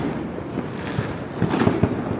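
New Year fireworks and firecrackers in Pasto, Colombia burst all around in a dense, continuous crackle, with several sharper booms standing out over the steady popping.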